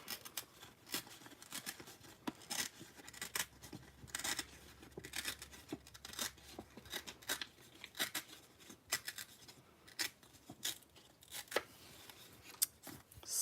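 Paper being torn by hand in a steady series of short rips and rustles over several seconds, close but quiet, with no talk.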